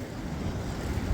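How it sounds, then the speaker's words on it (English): Waves at high tide splash and wash in close, a dense, continuous rush of churning water and wind noise across the whole short moment. "as I'm getting bombarded with water. High tide."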